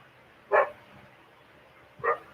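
A neighbor's dog barks twice, short single barks spaced over a second apart, moderately distant against a quiet backyard background.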